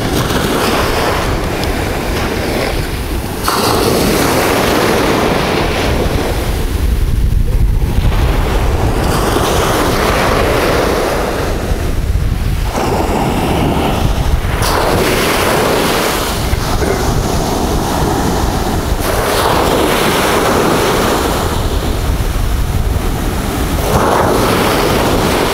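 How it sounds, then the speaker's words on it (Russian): Steady roar of Mediterranean surf at a beach in Yalıhan, Turkey, with waves surging and washing in repeatedly, mixed with strong wind rumble on the microphone, no voices. "Бескрайние волны, песочек."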